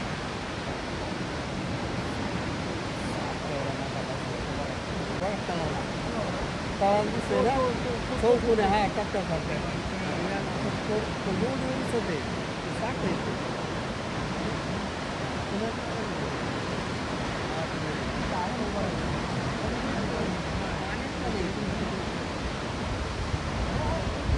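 Thoseghar waterfall in the Sahyadri hills of Satara gives a steady, even roar of falling water heard from across a valley, unbroken and moderately loud throughout.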